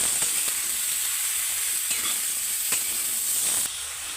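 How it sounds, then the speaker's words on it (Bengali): Nigella seeds and two green chillies sizzle steadily in hot oil as the tempering for ridge gourd posto, a close, even hiss with a few faint crackles and clicks, and no voices. "তেলের ওপরে কালো জিরে ফোড়ন দিচ্ছি আর দুটো কাঁচা লঙ্কা দেব। তেলের মধ্যে ছেড়ে দিচ্ছি।"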